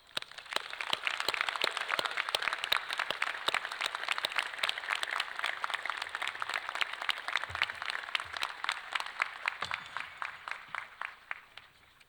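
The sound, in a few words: audience applause for retiring staff at a commencement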